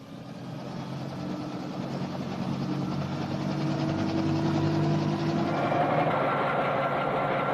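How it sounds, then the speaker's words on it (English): President Kennedy's helicopter runs up with a low engine drone and a rising rotor whine that grows louder and steadier, with no voices. "The first stage of the journey is aboard President Kennedy's helicopter to the airport"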